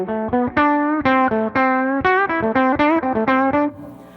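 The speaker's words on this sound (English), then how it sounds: "So the first part of the second solo sounds like this." A distorted electric guitar plays a second solo up close, a quick run of clipped, bright single notes in a steady rhythm.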